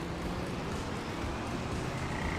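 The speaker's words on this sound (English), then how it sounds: "Hearing the toads." Toads croak in Farming Simulator 25 as a steady, soft chorus of ambient croaking that runs throughout without pause, with no one talking.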